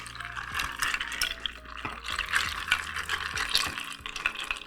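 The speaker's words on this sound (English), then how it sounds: "Give it a stir." Cocktail stirred with ice in a mixing glass, a steady run of light clinks and rattles as the cubes swirl, close and fairly quiet.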